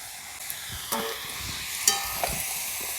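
Papaya, potato, carrot and ginger get stirred in a pan of hot oil for a chicken stew, a soft continuous sizzle broken by a few quick spatula scrapes and taps, close up and wordless.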